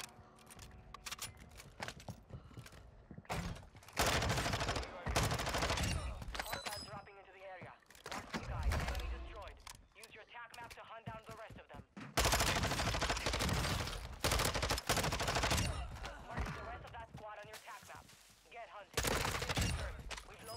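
Assault rifle gunfire in the shooter Warzone 2: loud, rapid automatic bursts repeat in several long stretches, with quieter gaps between them full of game sounds and a player talking.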